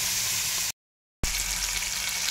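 Pieces of grass carp sizzle in hot lard dusted with a little flour in a home kitchen, a loud continuous frying hiss that cuts out briefly to silence and then resumes just as strongly.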